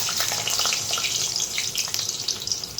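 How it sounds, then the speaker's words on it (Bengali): Potatoes for aloo posto dalna are dropped into hot oil in a pan after fried bora, giving a steady, loud, close hiss of frying oil throughout, with no talking. "তাহলে আলুগুলো ছেড়ে দিই।"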